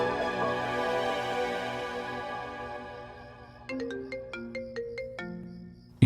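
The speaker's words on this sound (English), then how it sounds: "Your phone is ringing." A mobile phone ringtone plays alone: a sustained melodic chime that fades, then a run of bright, evenly spaced ringing notes that stop abruptly, close and clear with no talking.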